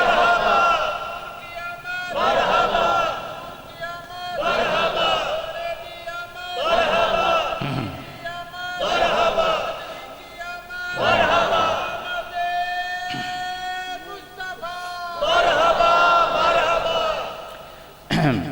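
Crowd of listeners at a religious gathering chanting slogans in loud, rhythmic bursts, voices rising together roughly every two and a half seconds in repeated call-and-response waves.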